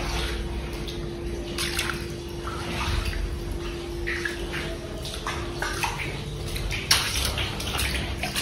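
Water floods across the floor of a room in a house, making a continuous rushing, gushing sound with scattered splashes and drips. It is fairly close and steady, and no one talks.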